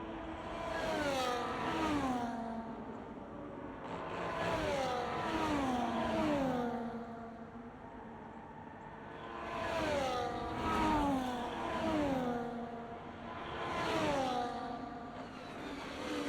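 Race cars in a Mexico round of a league racing video game accelerate hard, engines revving up through rising pitch sweeps, easing off and climbing again in repeated waves over a steady, continuous engine drone.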